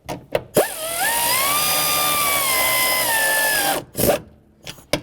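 A power tool snugs up the wheel lug nuts on a 2009-2020 Dodge Journey after rear strut replacement, one loud sustained whirring run of a few seconds with rising pitch, framed by brief clanks before and after.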